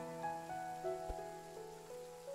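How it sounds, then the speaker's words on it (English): Rain weather ambience in the cozy game Chill Town, a soft, steady patter layered under gentle sustained musical tones, faint and continuous with no talk. "Have a little rain sounds."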